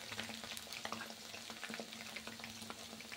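Kababs frying in a pan of hot oil give off a steady, dense sizzle close up, with light crackles and the occasional clatter of turning throughout.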